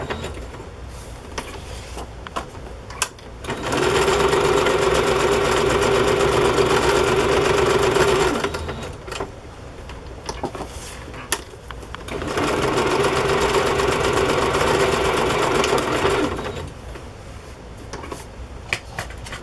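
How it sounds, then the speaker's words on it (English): A sewing machine stitches lace pieces onto a journal in two loud, steady whirring bursts of several seconds each, separated by quieter pauses with light handling noise. "So I'm just going to sew this on."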